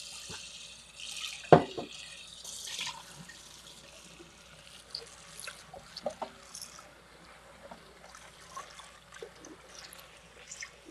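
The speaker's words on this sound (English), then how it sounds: "I'm going to rinse out my bowl real quick" A kitchen tap runs as a bowl is rinsed, starting with a brief loud splash and then settling into a soft trickle broken by light clinks and knocks of the bowl.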